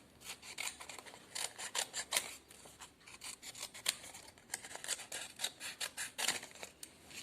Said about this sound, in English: Then we will cut triangle shape.